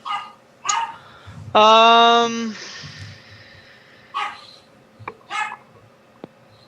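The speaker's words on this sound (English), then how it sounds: "You're trying to figure out where that strange barking noise is coming from." A dog gives a few short barks and a drawn-out whining yelp, with quiet pauses between; a voice speaks briefly near the end.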